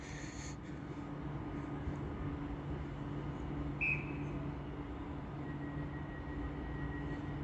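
A train pulling out of Stockport station on the West Coast Main Line gives a steady low rumble and engine drone with a faint high whine, continuous and moderately distant, with no one talking.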